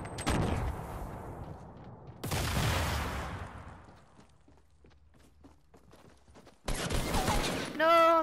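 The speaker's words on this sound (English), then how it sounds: "I can hear grenades being thrown." Fortnite 50v50 Battle Royale combat: loud explosive bursts and gunfire in several clusters, separated by quieter stretches of faint footsteps, with a final sharp burst near the end.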